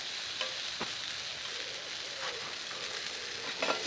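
Steak frying in a hot pan over a scorching campfire in the woods, a constant dense sizzle with a few faint crackles and pops, heard alone without talk.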